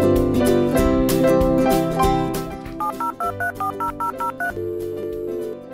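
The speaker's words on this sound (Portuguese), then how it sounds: "Vou ligar para ele!" A telephone number is dialed as a run of about eight evenly spaced touch-tone beeps over background music, after which the line plays a steady ringing tone.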